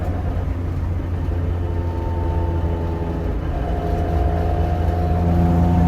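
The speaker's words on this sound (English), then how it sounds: "The gears, hear that." A B20 engine car with worn shifter bushings driving over a bumpy road, giving a steady loud engine drone with whining tonal gear harmonics that rise and shift partway through, continuous throughout.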